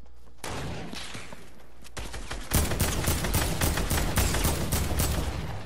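Heavy gunfire in a first-person video game match, a few scattered shots giving way to a dense, loud burst of rapid automatic fire that keeps going to the end.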